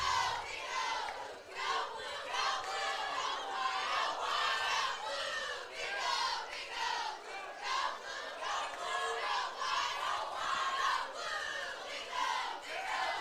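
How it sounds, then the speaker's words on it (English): A packed football stadium crowd roars and chants in waves at a high school game between the Sylvan Hills Bears and Vilonia Eagles, a loud, sustained din with shouting voices rising and falling throughout. "This Bears crowd got the stadium rocking."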